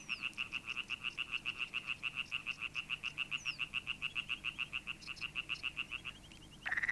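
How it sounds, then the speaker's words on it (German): A European tree frog calls in a rapid, even series of sharp croaks, dozens in a row, loud and close. It ends in a brief clash of overlapping calls. "der Laubfrosch"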